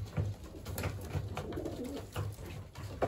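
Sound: racing pigeons cooing at a bath pan

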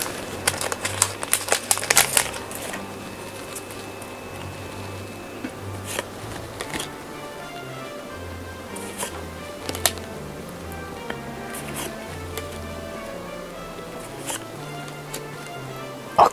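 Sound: opening One Piece card game booster packs, wrapper crinkling

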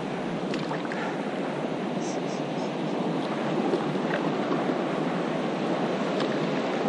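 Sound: river waves while paddleboarding on the Missouri River

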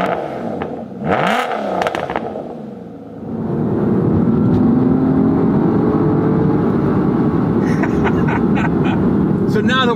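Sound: manual Aston Martin DBS driving on the road

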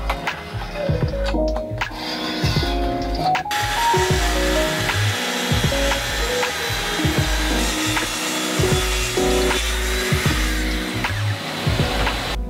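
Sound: sanding and cutting glued-up wood to size

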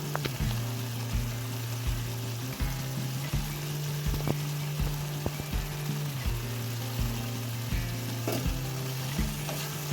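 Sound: dried anchovy frying in tomato masala

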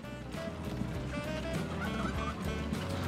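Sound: turkeys gobbling in video game Transport Fever 2

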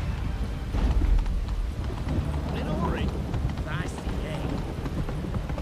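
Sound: horse galloping in The Witcher 3 video game

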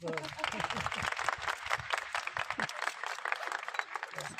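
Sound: people clapping

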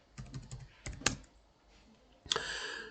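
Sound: typing a password on a computer keyboard

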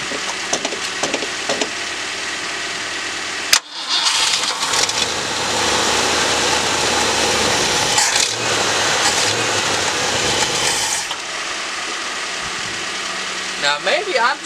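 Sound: 1965 Ford Galaxie 500 engine cranking, trying to start

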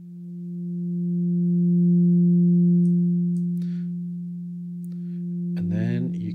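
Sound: FM synthesizer tone while changing parameters

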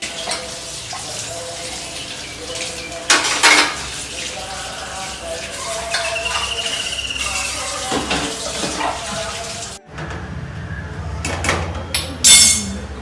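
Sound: washing pots and dishes

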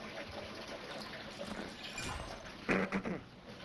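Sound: player moving through water in Modern Warfare 3 video game

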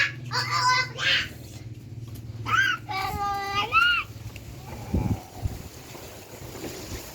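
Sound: wind blowing outdoors

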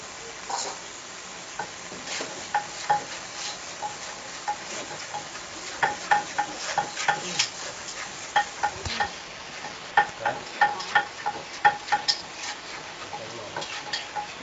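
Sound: stir-frying chicken giblets

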